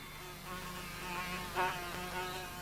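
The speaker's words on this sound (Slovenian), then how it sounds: "Čebele so." A faint, steady insect buzz with wavering tone, like bees, hums continuously in an animated children's cartoon, with a brief louder swell midway and no speech.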